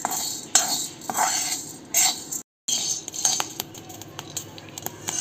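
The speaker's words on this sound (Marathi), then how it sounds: "आता आपण यात गहू भाजून घेऊया." Wheat grains are dry-roasted in a pan, stirred with a metal utensil that scrapes and clinks in quick bursts, with a short silent break midway; close and fairly quiet, no voices.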